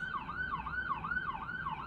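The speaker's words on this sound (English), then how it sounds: "The sirens are gonna siren." An emergency siren wails on a New York City street in Hell's Kitchen, a rising and falling tone that repeats about four times, heard at a moderate distance with no talk.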